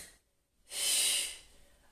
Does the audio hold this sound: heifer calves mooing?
no